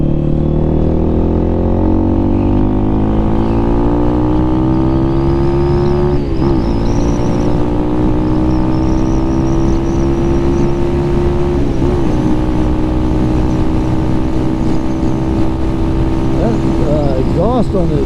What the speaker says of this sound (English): Exhaust on this bike sure sounds good. Kind of sounds raspy, you know what I mean?